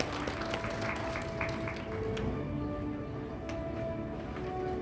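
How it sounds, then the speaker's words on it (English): Applause at a medical conference on maternal health in Sri Lanka, a fairly faint, steady round of clapping from the audience heard from a distance, with some background voices and room noise. "A round of applause, ladies and gentlemen,"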